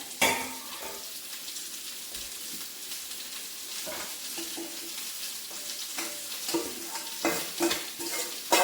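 Chicken pieces sizzling and being stirred in a hot pan, with faint steady frying and occasional scrapes and clinks of a utensil against the metal, fairly quiet and close.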